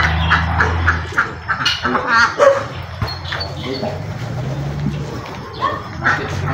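Ducks kept on a farm quack in repeated bursts among close, busy outdoor sounds, with someone speaking over parts of it.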